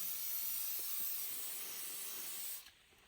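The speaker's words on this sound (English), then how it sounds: "you just take some WD-40 and you spray it all in here" Continuous hiss of WD-40 sprayed from an aerosol can into the chute of a snow blower, steady and close for about two and a half seconds, then cutting off abruptly into quiet.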